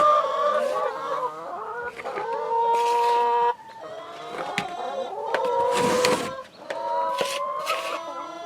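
Backyard chickens clucking and squawking close by, a busy run of repeated calls with short pauses and some louder outbursts.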